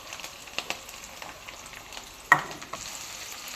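Chopped onion and chili frying in a pan as they are stirred, a soft steady sizzle broken by a few sharper scrapes and clinks, with no talking.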